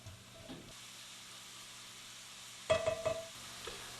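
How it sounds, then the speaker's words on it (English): Vegetables and garlic cooking in a soup pot for Irish beer cheese soup, a faint low sizzle with a couple of short bursts of stirring clatter, close but quiet. "We'll stir all that together and cook this until our vegetables get a little tender."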